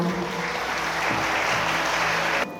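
Wedding guests in a Korean wedding hall clap for the bride and groom, a full, continuous round of applause that cuts off abruptly near the end.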